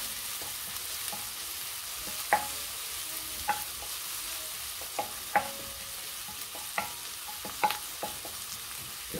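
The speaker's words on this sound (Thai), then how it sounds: "ผัดกระเทียมไปนะคะผัดให้หอมเนาะไฟอ่อน" Garlic stir-frying in a pan over low heat, with a steady soft sizzle broken by occasional sharp clicks and scrapes of a utensil against the pan, close and moderately quiet.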